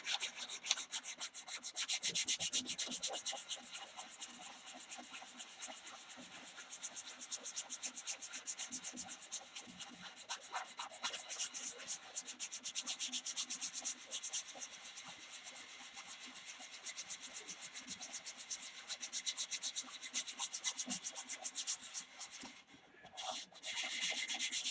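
Sanding a carved wooden piece fresh off the lathe, a continuous rough scratchy rubbing that stays steady and close for the whole stretch, with brief dips in intensity and no talking.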